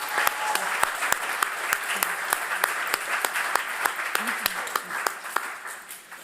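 Ceremony audience applauding the MAS board at an honours programme closing ceremony, a steady dense clapping held at even loudness for several seconds before tapering off near the end.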